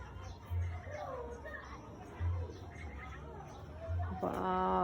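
Domestic pigeons, two males and a female, coo in low repeated throaty pulses while shuffling nearby, with people chattering over them throughout.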